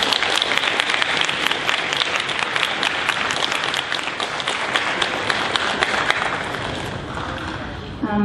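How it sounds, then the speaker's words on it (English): Loud, sustained applause from an audience at an 8th grade school celebration honoring students, many hands clapping densely for the whole stretch and tapering slightly near the end. "Let's give them a round of applause"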